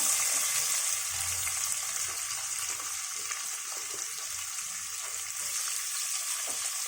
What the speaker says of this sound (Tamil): இதை நல்லா நம்ம வந்து கொஞ்சம் பொன்னிறமாக வறுத்துக்கலாம், வதக்கிக்கலாம்.